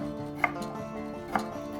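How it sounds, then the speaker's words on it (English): Knife slicing carrot on a cutting board for a Korean spicy octopus stir-fry: two sharp, distinct cuts about a second apart, faint against a steady hum, with no talking. "Slice 50 grams of carrot just like this."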